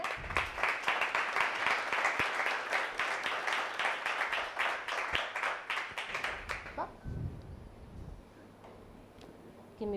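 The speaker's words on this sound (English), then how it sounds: "A big round of applause for our speakers" Audience applause for a panel of speakers at a tech product management talk, dense clapping that fills the room for about seven seconds, then fades out to a quiet room with a few stray claps.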